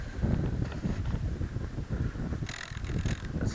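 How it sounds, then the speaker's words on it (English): Strong outdoor wind buffets the microphone while a C-Ray 180 flying wing is being flown. The rumble is loud, continuous and gusting, with a brief hiss of extra turbulence near the end. No voices are heard. "The wind's a little too strong"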